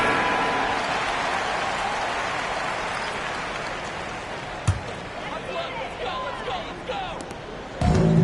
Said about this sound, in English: Fans, please give a big round of applause for your next youth team.